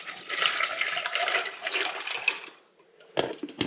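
Leftover chicken stock pours into a pan in a steady splashing stream for a couple of seconds, trailing off into a few brief drips and clatters.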